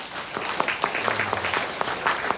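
Applause from a church congregation during a Saturday prayer meeting, a burst of clapping with scattered individual claps, up close and lively over a short stretch.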